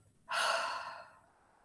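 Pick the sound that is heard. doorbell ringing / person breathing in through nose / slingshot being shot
person breathing in through nose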